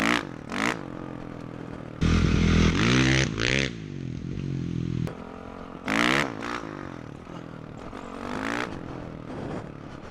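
A dirt bike engine revs hard in sharp, snapping bursts during a wheelie, rising and falling several times with brief lulls between, loud and close, with no voices.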